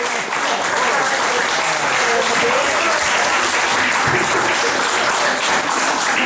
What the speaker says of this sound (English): can we have another wee round of applause for our accompanist, Miss Amber Thornley